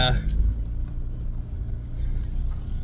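A Chevy S10 pickup stuck in snow revs its engine with a low, steady rumbling drone, close and fairly loud, while people talk over it.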